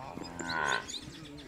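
Calves mooing at a cattle corral on a rural farm in Guárico, a single drawn-out, close bawl rising and falling over faint background noise.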